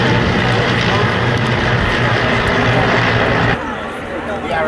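Tiger Moth biplanes fly past in arrow formation at the Great Warbirds airshow, West Malling, 1990, a loud, steady drone of propeller engines that holds throughout and then drops off slightly near the end, with voices underneath.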